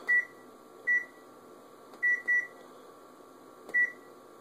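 A kitchen timer gives short, high, electronic beeps in irregular single and double bursts while pine needle tea cooks on a stove, with a steady faint hum underneath and no talking.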